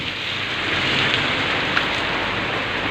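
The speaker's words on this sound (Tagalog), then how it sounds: "Kaso bigla lang bumuhos ang ulan." Heavy rain pours down in a sudden downpour on the way back to a warehouse, a loud, dense, steady hiss of drops on surfaces with no voices.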